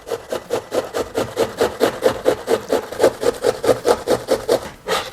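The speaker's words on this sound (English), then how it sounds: "we're going to grate that onion." A whole onion held by the root is rubbed over a hand grater for coleslaw. The rhythmic rasping strokes are close and steady, about four per second, with no talking.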